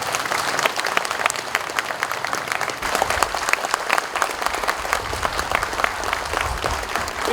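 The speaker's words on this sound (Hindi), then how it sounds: "इसी के ताली के साथ" Sustained applause from an audience at a gathering of former soldiers in Uttarakhand, dense steady clapping filling the whole stretch with no pauses.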